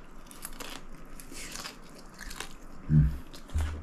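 Crisp bacon bitten and crunched while eating, a few soft chewing crackles followed by two louder, closer crunches near the end, with no talking.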